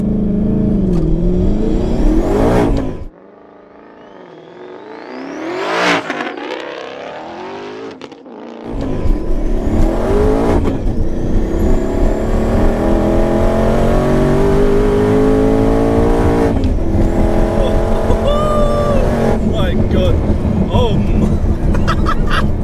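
Two heavily modified Ford Mustang GTs drag racing, one twin-turbocharged at about 980 bhp and one supercharged at about 950 bhp: loud engine roar and revving builds into sustained acceleration, with a brief quieter lull near the start, amid commentary and crowd noise.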